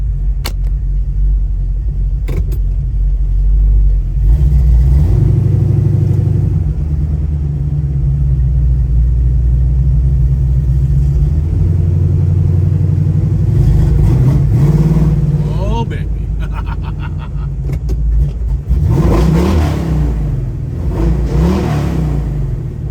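A 1966 Chevrolet Nova with a turbo 350 transmission idles with a deep, loud rumble, then revs up and pulls away, the engine note rising and falling through the run.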